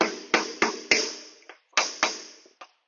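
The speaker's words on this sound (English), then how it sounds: "And knock it in down, like that." Sharp knocks drive a glued wooden chair part into place, six or seven close, loud taps in an uneven rhythm, each ringing briefly before the next strike.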